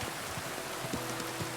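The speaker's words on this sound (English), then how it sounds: "Nice to be riding in the rain." Steady rain in Kingdom Come: Deliverance 2 while riding, a dense even patter with soft low thuds, with no voices.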